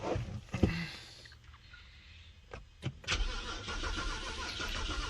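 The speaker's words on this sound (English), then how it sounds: "Customer complaint is that it does crank, but will not start." A BMW 325i engine cranks without catching, a short starter whir followed by brief bursts of turning over, close by with a steady background hiss and no talk.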